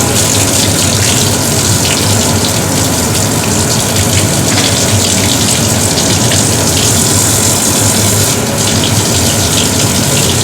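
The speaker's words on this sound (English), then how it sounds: "Rinse as often as you need to get all the soap off." Water runs steadily and loudly from a surgical scrub sink tap as soap is rinsed off hands. The gushing, splashing flow is continuous and close throughout, with no talk.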